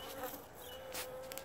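Honeybees buzzing at a DIY dry pollen feeder outdoors, a faint steady drone with a sustained hum, as several bees drift close past the microphone in brief louder swells.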